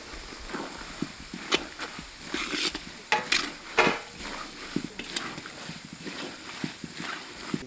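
Samosa vegetable filling fries in a pan with ground spices while a spatula stirs it, giving a soft steady sizzle broken by repeated close scraping and tapping strokes.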